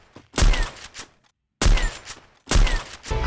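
Three loud sniper rifle shots from a Raphael character in Free Fire, each a sharp broadband crack with a short decaying tail, spaced about a second apart with a brief silent gap before the second.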